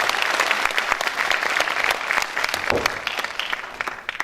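Loud, dense audience applause at a political event on local election candidate nominations, sustained and even across the whole stretch with no speech standing out.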